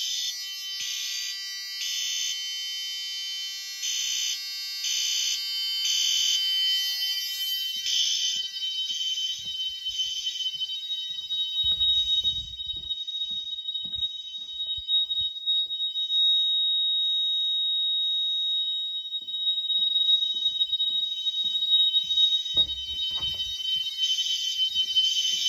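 Fire alarm mini horns blare in a loud, close code 3 temporal pattern during a system test, with repeating groups of three piercing electronic tones separated by brief pauses; handling bumps are heard underneath.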